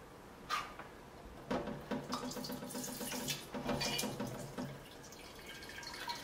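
Milk spraying from a knife-poked hole in a plastic jug into a bowl while separating cream, heard as quiet intermittent splashing and dribbling in short bursts, close and faint.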